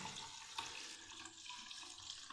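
Water is poured from a laboratory calorimeter into a graduated cylinder, a steady soft hiss and trickle with faint splashes, continuous and quiet throughout.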